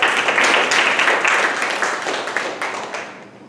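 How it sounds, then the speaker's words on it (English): An audience at a live-streamed event gives a round of applause, many hands clapping densely at first, then gradually thinning and fading toward the end. "so a big round of applause."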